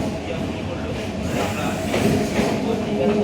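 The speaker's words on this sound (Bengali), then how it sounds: "অনেক দিন পর এত ভোরে ট্রেনে উঠলাম না" A passenger train carriage rolls along at dawn, a continuous close rumble with faint murmuring voices in the background.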